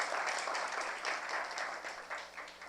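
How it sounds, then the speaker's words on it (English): An audience at a cybersecurity forum applauds panelists, a dense, sustained round of many hands clapping that holds steady for a few seconds before beginning to thin. "How about a round of applause for our great panelists for making the time?"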